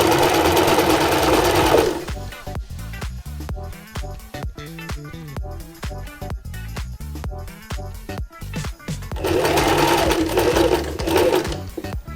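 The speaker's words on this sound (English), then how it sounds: "carefully sew along that seam" Sewing machine stitching a seam on a buff scarf, loud continuous motor whir for about two seconds, then a stretch of rapid stop-start stitching bursts, then another sustained run of steady stitching near the end.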